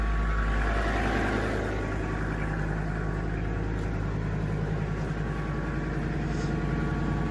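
A vehicle engine idles at just over 1,000 revs, driving the pump of a homemade log splitter, with a loud, steady, close rumble that continues throughout without talk.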